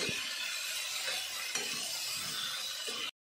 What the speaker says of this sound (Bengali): এবার এটাকে লাল লাল করে ভাজা করব।